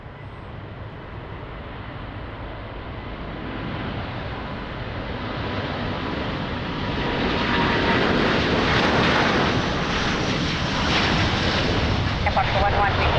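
A fixed-wing airliner at Lisbon Airport produces a broad engine roar that swells gradually louder over several seconds, a steady rushing drone with no break.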